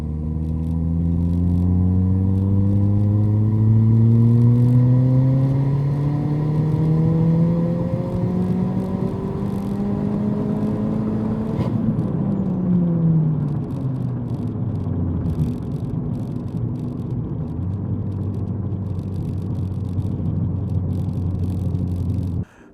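A Ford Fiesta ST fitted with a tubular turbo manifold and wastegate accelerating at full throttle, engine pitch climbing through several gears with brief dips at each shift, loud and sustained from inside the car.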